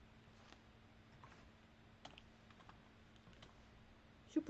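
Shift and Ctrl keys pressed on a computer keyboard: a few faint, scattered key clicks in a quiet room, with a slightly louder double tap at the end.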